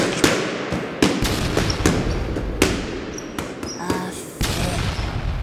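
Sharp explosive bangs in a video game go off one after another in quick, uneven succession, some close and punchy, with brief crackling in between.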